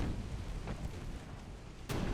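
Naval gunfire in Ultimate Admiral: Dreadnoughts, with a sharp, loud cannon blast near the end after a low rumbling battle background and a faint earlier boom.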